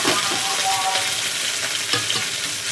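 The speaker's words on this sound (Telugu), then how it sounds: "అల్లం ముక్కలు చక్కగా అన్నీ వేగిపోతాయండి. కరివేపాకు, పచ్చిమిర్చి అన్నీ కలుపుకుందాం." Onions, ginger, curry leaves and green chillies frying for Bombay upma give a dense, loud sizzle with a few stirring scrapes, close up and without talk.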